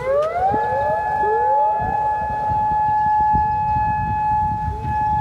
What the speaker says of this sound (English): didn't expect to hear a tornado siren.